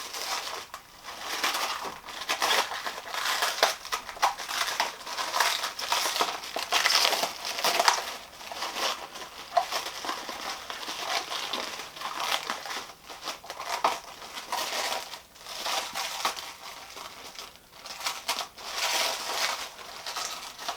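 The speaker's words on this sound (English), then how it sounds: "we'll go ahead and pull this plastic back" Protective plastic film being peeled off a Traxxas TRX-4MT Ford F150 RC truck body, a close, continuous crinkling and crackling that comes in irregular bursts across the whole stretch, with no voices.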